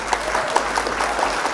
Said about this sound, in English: Round of applause for our opponents.